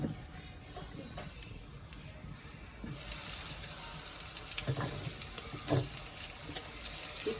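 Water poured into a pot of prawn and brinjal curry with chilli powder and turmeric, a steady low splashing and hiss that swells midway and carries on, fairly quiet and close.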